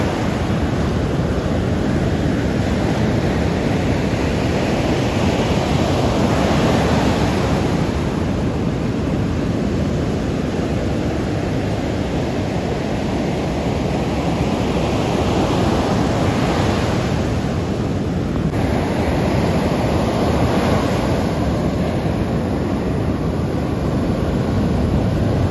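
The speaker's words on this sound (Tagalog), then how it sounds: "Grabe naman yung dagat na ito. Galit na galit." Rough sea surf at a beach resort in Morong, Bataan roars continuously, a dense wash of breaking waves with wind buffeting the microphone throughout.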